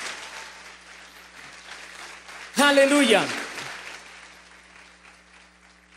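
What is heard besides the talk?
church congregation applause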